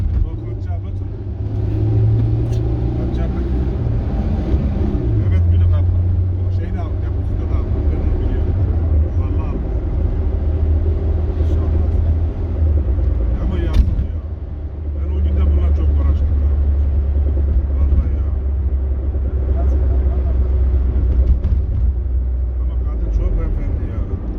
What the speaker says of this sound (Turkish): Araba, araba Doğan.